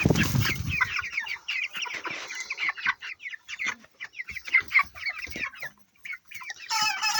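Broiler chickens in a poultry house cluck and chatter in busy overlapping bursts, fairly close, with brief pauses between calls and no speech.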